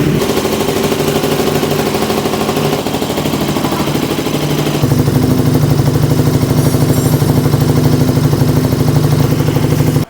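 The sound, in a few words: KTM Super Duke motorcycle engine running loudly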